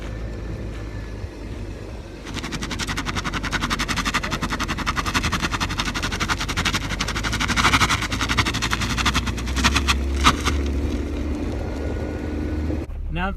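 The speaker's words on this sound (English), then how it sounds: "let's go see if the tire chirps" BMW E36 with a welded differential pulling away and driving, its engine droning steadily and loud up close, with brief tire chirps near the end and a voice now and then.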